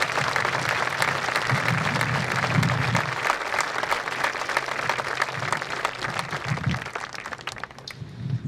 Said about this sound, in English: Let's give all the graduates a round of applause.